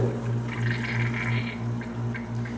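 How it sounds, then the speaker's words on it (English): A LAC-TEK milk machine runs plain water through its lines, a steady low mechanical hum with a constant watery gush and sloshing layered over it. "Now you're going to want to turn the machine back on, and you'll notice that it's going to be sending out water, just straight water."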